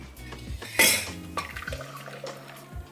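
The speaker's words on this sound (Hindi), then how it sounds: "अब हम इसको दूसरे बर्तन में ट्रांसफ़र कर देते हैं।" Ghevar batter of flour and water is poured from one cooking pot into another, with wet sloshing and pouring sounds and several sharp metal clinks of the vessels nearby.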